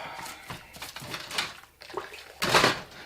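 Plastic cups being washed by hand under running water, with splashing and gushing flow broken by short clattering knocks of the cups, close up and fairly loud.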